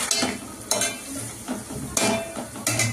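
Spice powders, garam masala and coriander powder, being stirred through a drumstick-potato curry in a pan, with rhythmic scraping strokes roughly every second over a steady sizzle, close and fairly loud.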